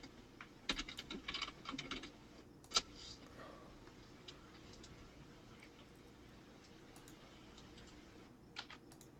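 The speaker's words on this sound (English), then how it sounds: "I'll type it in on the chat again" Typing on a computer keyboard, a quick burst of close, light key clicks early on, then sparse isolated taps over a quiet background with faint talk.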